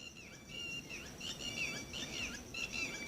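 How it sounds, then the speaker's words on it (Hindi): A wild bird calls in quick, high, warbling chirps somewhere around a house, faint and slightly distant, repeating in short bursts over a low background hiss with no talking. "किसी पक्षी की आवाज़ आने लगी है एकदम से"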